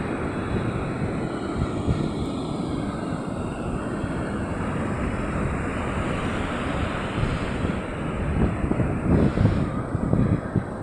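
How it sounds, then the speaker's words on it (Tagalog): A steady, heavy roar of big ocean waves crashing continuously on a beach, mixed with gusty wind buffeting the microphone. "Kaso sobrang laki talaga ng alon guys,"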